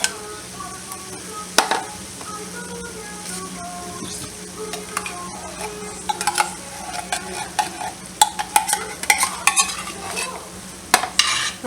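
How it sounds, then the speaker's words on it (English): Cream of mushroom soup being stirred into browned hamburger meat in a pan, with a low sizzle beneath repeated close spoon scrapes and clinks against the pan that grow busier and more rhythmic toward the end. "I'm going to start stirring this in."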